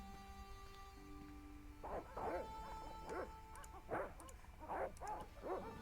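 A dog in the point-and-click adventure game Broken Sword barks repeatedly in short, yappy bursts at a steady pace, moderately close, over a low hum of background game ambience.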